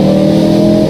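BMW M3 E46 fitted with a V10 engine from the M5, aftermarket exhaust howling in a loud, high revving tone, steady and close for about a second with no talk.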